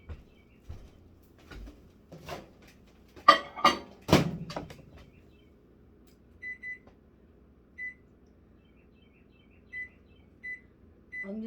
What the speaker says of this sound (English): I've got a stick of butter I'm going to melt in the microwave